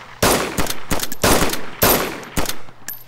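Gunfire in a video game: about six loud, close bursts of rapid automatic shots in quick succession, each cut sharply, with no talking.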